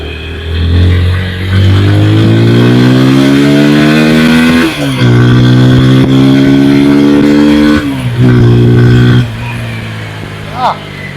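A TVS Apache RTR 160 4V motorcycle engine revs loudly up through several gears during a ride, each rising pull ending in a brief dip at a shift, then easing off near the end.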